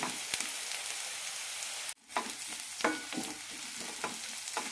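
Onions frying in a pan as tomato goes in, a continuous close sizzle with stirring scrapes and taps, briefly dropping out then resuming, no voices.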